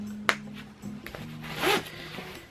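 A few short zipper pulls on a puffer vest, close by, with a louder rasping zip near the end amid light handling noise.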